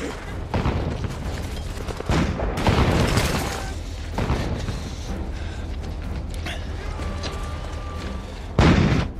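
War film battle scene with a tank attack and a thrown grenade: heavy booms and blasts recur at intervals over rumbling mechanical noise, with a sharp loud explosion near the end.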